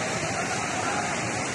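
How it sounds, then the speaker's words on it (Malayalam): A river rushes past a house after a landslide in Wayanad, Kerala: a steady, unbroken roar of churning water with no pauses, loud and close throughout. "പുഴ ഇതിൻ്റെ ഈ വീടിൻ്റെ അങ്ങേ ഭാഗത്തു കൂടെയാണ് പുഴ പോകുന്നത്."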